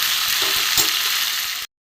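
Broad beans and potatoes with tomato sizzle in a pan, a bright, steady crackle lasting under two seconds before cutting off to silence.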